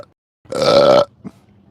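A single loud, drawn-out burp lasting about half a second, followed by a small faint vocal sound, close to the mic in an otherwise quiet setting.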